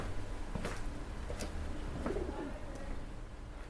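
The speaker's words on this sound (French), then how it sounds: "on entend en permanence l'envol des pigeons" Pigeons coo softly in a quiet village lane, with a few brief flutters that may be wings as birds take off. The sounds are faint and somewhat distant against low background hum.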